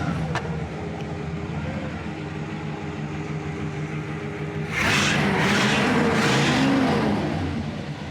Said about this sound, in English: Such a nice car, and it runs so quiet.